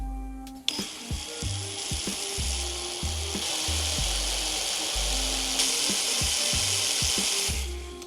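A worn, poorly cutting drill bit bores into steel at slow second gear. A busy grinding, scraping rasp runs throughout. Beneath it is a low, uneven, lumpy chatter that stutters in irregular bursts, close and fairly loud, with no voices.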